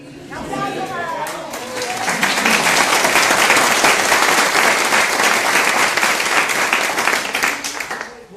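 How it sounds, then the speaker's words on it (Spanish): Audience applause rises after a brief spoken lead-in, building into a loud, sustained crowd of clapping that holds for several seconds before tapering off at the end. "Un aplauso para"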